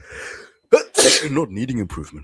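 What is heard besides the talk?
person sneezing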